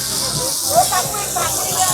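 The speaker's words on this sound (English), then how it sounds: "Bombay duck that she is frying up here" Bombay duck fish frying in oil at a busy seafood festival stall, a loud steady hissing sizzle heard close up amid outdoor bustle and faint voices.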